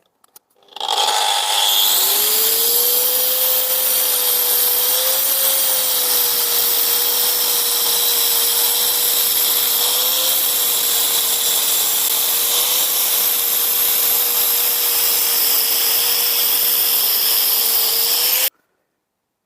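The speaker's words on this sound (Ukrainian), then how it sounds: "Пілю штроби, штроби пілю, звичайною болгаркою без пилісоса" A standard angle grinder whines steadily at high speed while cutting chases into a masonry wall with no dust extraction, harsh and loud, running continuously for over fifteen seconds before stopping.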